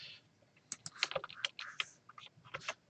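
Fingers tap out a short burst of typing on a computer keyboard while coding in Python, with quick, close, light clicks in uneven clusters.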